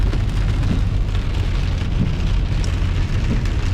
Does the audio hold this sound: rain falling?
yes